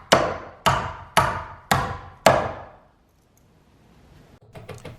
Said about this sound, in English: I'm just putting all kinds of nails in. These are duplex nails, which have 2 heads